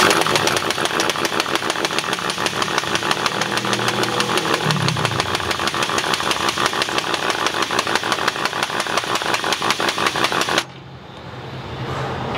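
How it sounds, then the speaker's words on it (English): Air compressor running in a garage during a rear disc brake conversion on a GMT400 Chevy dually, a loud rapid rhythmic thumping pulse close by that drops to a lower, quieter drone near the end. "You can hear my compressor kicking on now."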